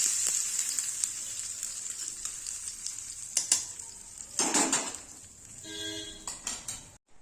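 Hot tempering with red chilli is poured over stuffed brinjal curry, bursting into a sharp hissing sizzle midway that fades to soft crackles, with a few faint clinks of utensils.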